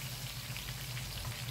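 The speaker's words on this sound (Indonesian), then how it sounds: "Ini minyak selepas kita menggoreng ikan tadi, kita pakai lagi untuk menggoreng bawang." Shallots frying in oil reused from frying fish, a steady dense sizzle and crackle throughout, close and even with no talking.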